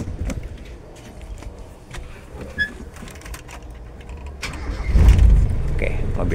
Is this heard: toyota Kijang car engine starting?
yes